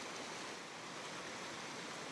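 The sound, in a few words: waterfall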